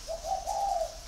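An oriental magpie-robin calls from its cage: one sustained, slightly wavering whistled note, clear and close, heard alone for about a second.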